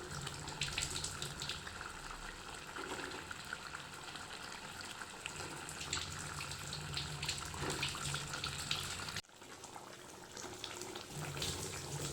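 Hot water poured into a pan of Ari fish curry with ash gourd, a steady running, splashing stream that continues for several seconds with a brief break near the end, quiet and close with no speech.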